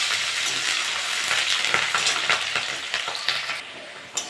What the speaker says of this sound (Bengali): পেঁয়াজটা একটু ভেজে নিয়েছি